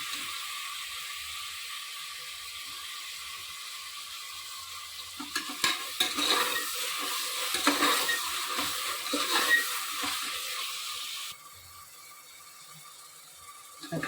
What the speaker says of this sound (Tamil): தக்காளி வதங்கிடுச்சு.